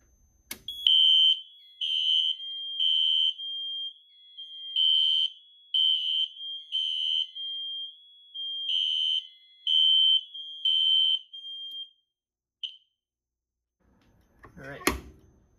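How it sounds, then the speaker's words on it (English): A Notifier AFC-600 fire alarm panel sounds in a steady pulsing pattern of loud, high electronic beeps, about a dozen evenly spaced bursts, ending with a short chirp and a brief handling noise. "The alarm should jump very high once it detects the magnet."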